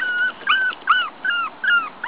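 A puppy whimpers in a series of short, high whines, about five in quick succession, close and clear.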